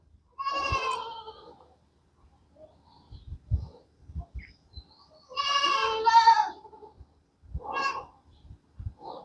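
Several goats bleat loudly in bursts while being fed malunggay leaves and sweet potato, with long wavering calls near the listener and quieter chewing and shuffling sounds between them.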